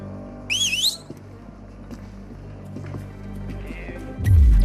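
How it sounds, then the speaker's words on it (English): Finger whistle in the Assassin's Creed Nexus VR game, made by putting finger and thumb in the mouth to draw guards: one sharp, shrill warbling whistle about half a second long, loud against a quiet low game ambience. "the ability to whistle by putting your finger and your thumb together and putting it in your mouth"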